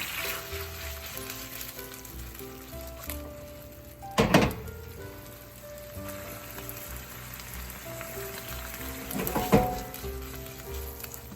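Prawns fry in a pan with a constant close sizzle, and two louder bursts of spattering and crackling stand out as they are moved or stirred.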